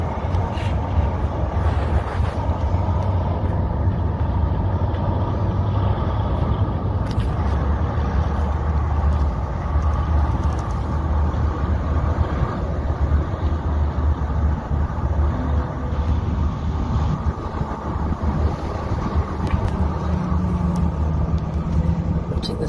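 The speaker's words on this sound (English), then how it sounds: "And yes, that's the traffic just to the south of us." Road traffic passes just to the south of a waterside spot in the Pinelands, a continuous loud low rumble of vehicles with occasional brake hiss and wind buffeting the microphone.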